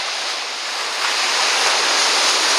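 Ocean waves wash onto a beach in a loud, continuous roar of surf that swells slightly partway through, with no voices.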